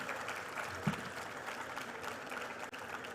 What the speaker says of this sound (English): Let's give a huge round of applause to Ms. Fatima Agarkar.